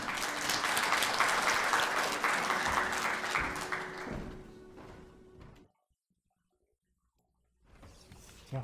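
An audience at a commemorative ceremony applauds to welcome a speaker, with dense steady clapping that fades out to silence before a brief return of sound at the end.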